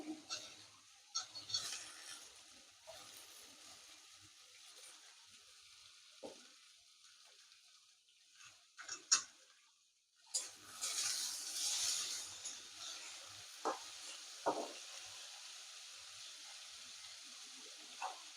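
Potato pieces frying in a pan for Mughlai paratha, a soft steady sizzle with bursts of louder crackling and a few stirring scrapes, fairly quiet overall.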